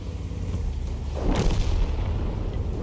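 A tank cannon shot in World of Tanks, the Panzer IV firing on a Panther, lands as a single heavy boom about midway and is followed by a rumbling tail, all over a steady bed of game noise.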